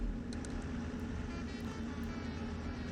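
A bus in the driving game Bus Simulator Ultimate gives a steady, even engine and road rumble that holds constant with no clear rise in level and no voices.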